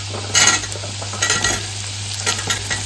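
Potatoes and pumpkin frying in a pan with a steady sizzle, interrupted by a few louder bursts of stirring and scraping, close and alone.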